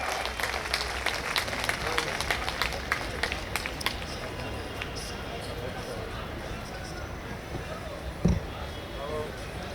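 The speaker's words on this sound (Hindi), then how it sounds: "तो जोरदार तालियों से स्वागत कीजिए आदरणीय वीएन बाग साहब का।" Crowd applause at a national convention welcoming a guest speaker, strongest at the start and thinning into murmuring crowd noise, with a single loud knock near the end.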